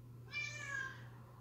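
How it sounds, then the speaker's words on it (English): A cat meows once from a short distance, a clear, drawn-out call lasting under a second over a steady low household hum. "We have a female cat in the bedroom, and her and him play under the doorway."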